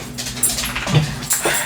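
A dog whimpers and yips in a room, with short high whines and a couple of quick yelps close by during a brief moment.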